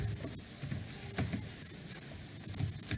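Typing on a computer keyboard while writing C code, a scattered run of light clicking keystrokes at close range, uneven in rhythm, with brief pauses between bursts.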